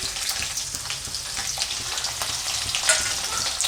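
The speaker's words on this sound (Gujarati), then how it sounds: "જીરાનો વઘાર કરીશું" Cumin seeds and green chillies crackle and sizzle in hot oil, a steady, close, bright frying hiss with small pops throughout, no voices.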